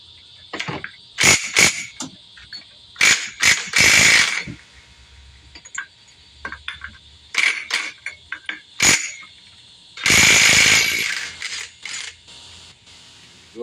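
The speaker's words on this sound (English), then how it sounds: "we're going to be using our 27mm socket to get our hub and our basket off" A 27mm socket turning on the clutch hub and basket nut of a 2006 Kawasaki KX250F engine, giving bursts of ratcheting clicks and metallic grinding in short repeated spells with brief pauses between, close and fairly loud.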